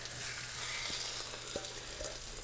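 Butter-soaked slice of soggy French toast bread sizzling steadily in a hot pan, a loud continuous crackling hiss with a few faint clicks of the pan, no voices.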